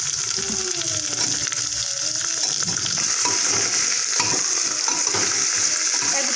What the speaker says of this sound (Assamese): চব্জিখিনি একেলগে দি পেলাই এতিয়া অকণমান সময় ভাজি ল'ম